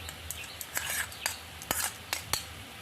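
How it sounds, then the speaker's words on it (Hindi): A spoonful of yogurt is whisked in a bowl with a spoon, giving light, irregular clinks and taps against the dish over a soft background hiss, close and fairly quiet. "ये देखिए 1 चम्मच मैं दही ली हूँ, इसको आप फेंट लीजिए"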